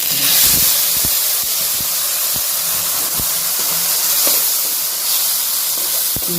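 Curry leaves dropped into hot oil give a loud, steady hiss and sizzle that carries through the whole stretch, with a few soft knocks underneath.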